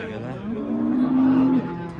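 A cow at a cattle market gives one sustained low moo, loud and close, over a background of market noise.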